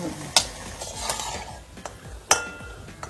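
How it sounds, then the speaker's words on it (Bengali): Malpua batter frying in a pan of oil: a soft, steady sizzle broken by two sharp metallic clacks of a utensil against the pan, heard close with no voices. "মালপোয়া ভাজা হচ্ছে আর ওদিকে রসের শিরা বানানো হচ্ছে, ফুটছে যেটা।"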